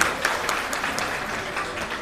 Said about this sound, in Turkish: Alkışları görelim.